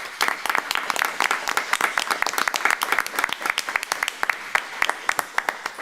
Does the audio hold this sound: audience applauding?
yes